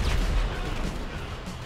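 A tank fires its cannon in Grand Theft Auto V, giving one deep, heavy boom right at the start that decays into a low rumbling tail.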